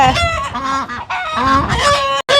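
A hen squawks loudly and repeatedly at close range, harsh, strained cries in rapid bursts that break off abruptly at the end.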